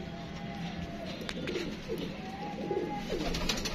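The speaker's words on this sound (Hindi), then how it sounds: "टैडी कबूतर है" A teddy pigeon coos in soft, low repeated calls close by, with light rustling and faint background noise between the coos.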